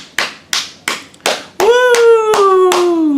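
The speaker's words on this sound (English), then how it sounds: "Big round of applause." Audience applause at a live stage show: four sharp percussive bursts, like claps or hits, then a sustained tonal cheer-like sound with rhythmic claps continuing underneath.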